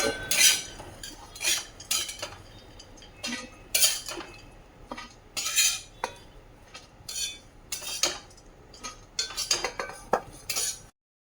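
Fried laddu pieces lifted out of a wok onto a plate, with repeated clinks and scrapes of a metal utensil against the pan and dish coming in irregular bursts, close and moderately loud, with no talking.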